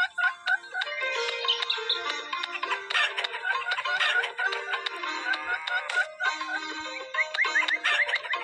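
A clucking chicken in a video game, with bright repeated game clucks and squawks over busy chiming sound effects, fairly loud and continuous.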